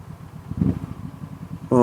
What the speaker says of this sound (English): It's this horribly sounding diesel next to me.